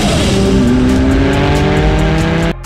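McLaren F1 with a custom-made 620 horsepower BMW V12 engine roars loudly, its pitch rising steadily as it accelerates, then cuts off abruptly near the end.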